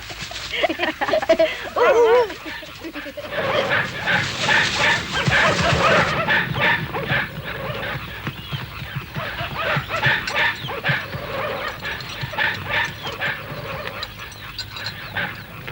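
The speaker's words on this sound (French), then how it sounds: "En réalité, ça n'était que les chiens du village." Village dogs barking repeatedly at a distance, the yelps mixed with honking fowl-like calls and overlapping voices talking throughout.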